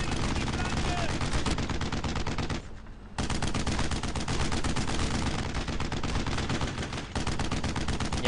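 Dense, continuous gunfire from the World War II video game Brothers in Arms: Road to Hill 30, with rapid machine-gun bursts and overlapping shots, loud and close, briefly dipping to a short gap before the barrage resumes.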